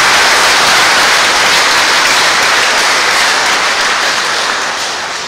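Dense, steady applause from a congregation fills a church, a loud unbroken wash of many hands clapping that fades slightly at the end.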